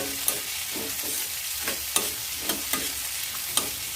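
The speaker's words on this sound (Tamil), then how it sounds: "இப்போ இது நல்லா ஓரளவு வதங்கிக்கிட்டு இருக்கு" Vegetables with chili sautéing in a pan, an even sizzle broken by regular spatula scrapes and light taps roughly every half second, close by.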